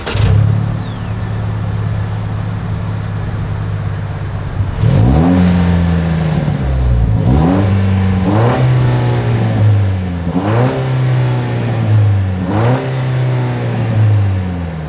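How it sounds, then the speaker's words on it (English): A 2025 Toyota Tacoma pickup idles with a steady exhaust note, then is revved in four or five sharp bursts that each fall back to idle, loud and close with no talk. "As always, here is that exhaust clip."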